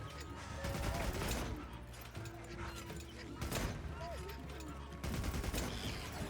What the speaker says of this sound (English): why is my machine gun not constantly firing?